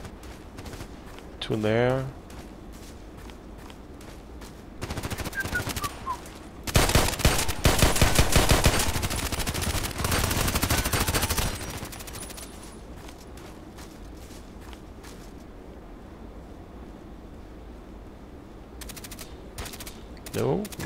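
Gunfire in the online shooter Contract Wars crackles in bursts, with a sustained rapid automatic volley in the middle and scattered shots before and after, while a player speaks briefly over the game sounds.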